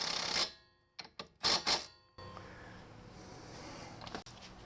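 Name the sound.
rattle gun running down nylock nuts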